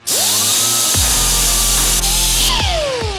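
A handheld power tool grinds down welds on a custom Harley Sportster flat-tracker oil tank, spinning up with a rising whine, then a steady loud harsh abrasive hiss broken by a few brief bumps and a slowing wind-down.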